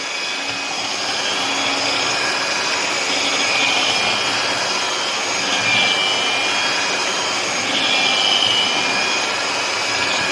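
Electric mixer blending homemade olive oil soap, a steady close whirring drone with a high whine, running continuously and fairly loud with no speech.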